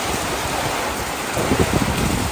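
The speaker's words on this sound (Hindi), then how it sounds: "बहुत ज़्यादा गर्मी के बाद अल्लाह ताला ने आज जो है बारिश कर दी है" The first monsoon rain falls with strong wind, a dense steady hiss of downpour that grows a little louder and more spattered toward the end, with no talk.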